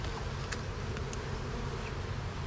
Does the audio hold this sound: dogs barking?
no